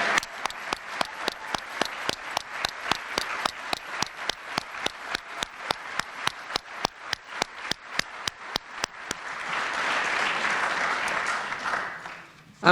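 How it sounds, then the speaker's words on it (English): An audience at a memorial celebration of life claps in steady unison for several seconds, then breaks into a dense wash of applause before it fades. "Let's give her another rousing applause."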